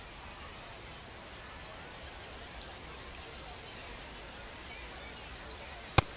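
Steady rain pours over a baseball field in MLB The Show 26, a constant even hiss throughout, ending with one sharp brief click.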